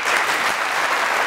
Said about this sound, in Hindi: आप लोगों की ढेर सारी तालियों में